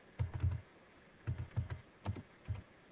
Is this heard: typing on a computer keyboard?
yes